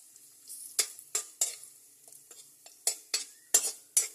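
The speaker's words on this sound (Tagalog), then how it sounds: "mag golden brown na yung ating sibuyas tsaka bawang." Chopped onions and garlic fry in a pan until golden brown while a utensil stirs them, with repeated close scraping strokes over a soft, steady sizzle.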